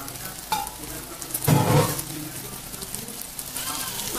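Vegetables frying in oil in a pan over low heat, a continuous soft sizzle with brief stirring scrapes and a louder burst midway.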